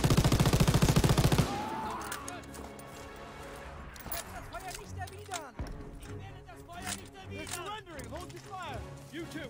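MG42 machine gun fire in the World War II shooter Call of Duty WW2, a loud burst at the start, then scattered shots and rattling fire over battle noise, with talking over it.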